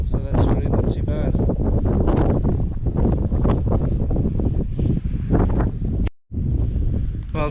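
Strong gusts of wind buffet the microphone outdoors at a hilltop drone flying spot, a loud continuous roaring rumble that briefly cuts out near the end, with a person talking under it.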